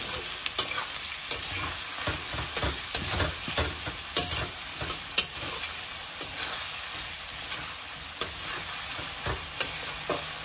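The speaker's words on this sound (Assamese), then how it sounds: "পিঁয়াজখিনি অকণমান গল্ডেন ব্ৰাউন কালাৰটো ভালকৈ ভাজি ল'ম।" Sliced onions frying in oil with added sugar for a Nepali-style mutton curry, a steady close sizzle broken by repeated sharp scrapes and clacks of a spoon stirring the pan, with no talk.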